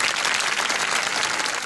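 Dense, steady audience applause at a Bollywood dance festival, many hands clapping together in a sustained even wash throughout the short stretch.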